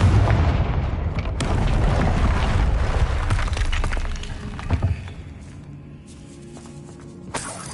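A Confringo fire spell explodes in Hogwarts Legacy on PS5 with a loud, deep boom and crackling burst that fades into rumbling debris, then a smaller blast near the end. No one speaks.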